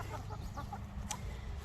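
Backyard homestead chickens, newer white hens mixed with brown ones, cluck in a short run of close, rhythmic calls with one sharper squawk, set against a low outdoor rumble.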